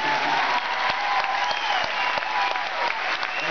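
A crowd applauding steadily at a concert in Melbourne, dense continuous clapping that holds at an even level throughout with no pauses.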